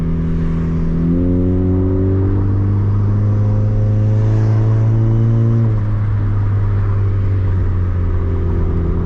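Turbocharged Honda Civic with an R18 engine accelerating hard from inside the car, a loud steady engine drone rising in pitch through the gears with a brief shift dip, no talk.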